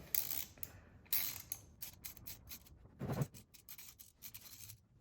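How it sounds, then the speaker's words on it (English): A ratchet with a 13mm socket clicks and creaks as it loosens the valve cover bolts on a KTM 450 SX-F dirt bike, coming in short, quiet bursts of rapid ratcheting with pauses between them. "start with your 13mm socket. We're gonna loosen and remove both these 2 here on the side."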